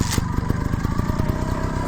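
Motorcycle engine running close by with a rough, fast-pulsing putter as the bike rides up a roughly 12-inch ledge, loud and steady throughout.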